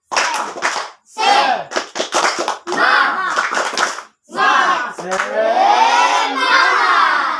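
A school class performs the 'tepuk semangat' clapping chant during a microteaching lesson: loud group voices and hand claps in short rhythmic bursts with brief gaps, ending in a longer sustained shout.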